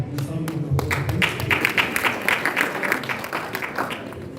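Audience at a printing and publishing expo in Nigeria breaks into applause, a few sharp claps swelling into a dense, even patter of many hands that carries steadily to the end.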